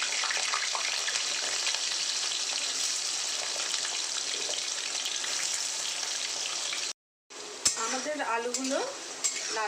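Cut potatoes frying with reddened spices in a pan, a steady loud sizzle with stirring for about seven seconds, then a short cut and a burst of fresh crackling with faint clinks.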